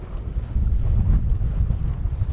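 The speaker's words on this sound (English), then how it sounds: "just a wind coming, cold wind. Just hit that side of the tent." Cold wind gusting against the side of a snow- and ice-covered tent on a Scottish hill summit, a loud, steady low rumbling buffet with microphone wind noise and no talk.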